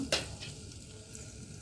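Noyal fruit chutney ingredients with cumin and coriander paste get stirred in hot oil, a soft sizzle with a quick scraping stir at the start, close and fairly quiet.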